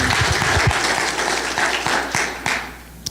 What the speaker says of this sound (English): I think we need to give Gloria a round of applause for doing all the work